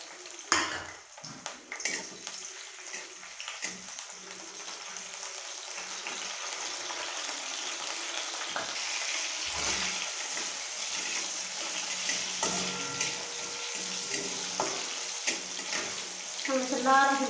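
Chilies fry in hot oil with a steady bubbling sizzle that rises and holds throughout, broken by occasional clinks and scrapes of a utensil, with brief talk mixed in.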